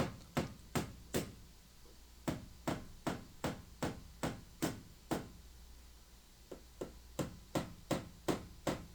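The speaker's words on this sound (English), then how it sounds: "So these nails are going through the vinyl trim and then down into the plywood below." Nails are hammered through vinyl floor trim into plywood inside a Ford Transit van build. The close, sharp blows come at an even pace in two bursts separated by a short pause.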